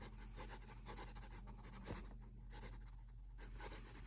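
Pencil scribbling on paper during a drawing lesson, a soft continuous scratchy rubbing with brief pauses, close but faint over a steady background hiss, no voices.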